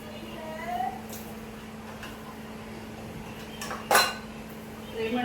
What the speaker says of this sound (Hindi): गैस ऑन कर दो इधर की और अब रख दो उबालने के लिए